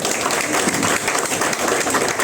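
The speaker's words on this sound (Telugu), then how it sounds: "మన సిఎండి సార్కి ఒకసారి మనం గ్రాండ్ క్లాప్స్ ఇద్దాం" Audience applause for a company CMD at an Independence Day gathering, a dense, steady wash of many hands clapping throughout, fairly loud and close with no pause or talk over it.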